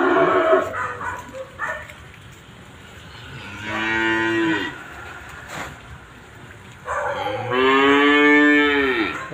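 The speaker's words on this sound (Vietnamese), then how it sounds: "Hai con bò này lỡ bò." Young bulls of about nine to ten months mooing on a cattle lot, two long drawn-out calls several seconds apart, loud and close over a busy outdoor background.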